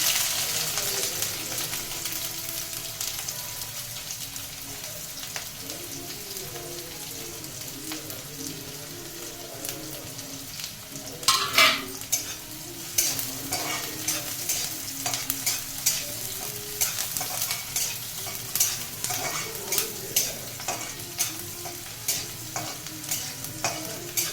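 Cumin, onions and green chillies fry in a pan, a steady close sizzle that grows busier midway with bursts of crackling and stirring scrapes over the hiss.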